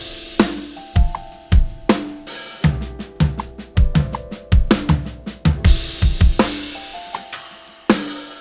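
A drum kit plays a busy fill of chopped sticking patterns, snare and tom strokes interleaved with kick drum hits and cymbal crashes, in rapid, punchy, loud bursts with no talking.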